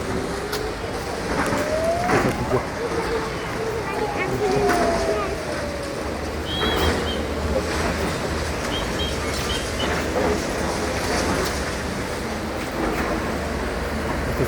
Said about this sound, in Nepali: यस्तो पानी परिरहेछ।